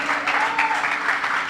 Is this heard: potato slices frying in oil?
no